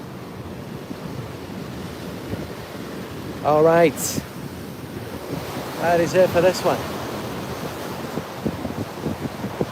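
Sea waves and gusting wind at the seaside, a constant rushing surf roar with wind buffeting the microphone, while someone talks briefly over it.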